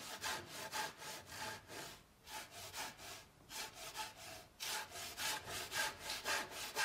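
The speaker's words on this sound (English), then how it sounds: "This is Ryoba-noko or double-edged saws, which has both a crosscut saw's teeth and a ripsaw's teeth." Japanese ryoba double-edged saw with crosscut and rip teeth cutting wood, close and loud rhythmic back-and-forth strokes, about two per second, with a brief pause midway.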